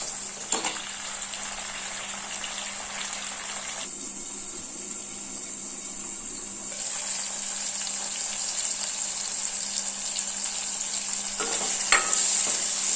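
Tomatoes and curry leaves cook in a pan for a fish curry, giving a soft, steady sizzle and bubbling with light stirring and a faint constant hum, close and without talk.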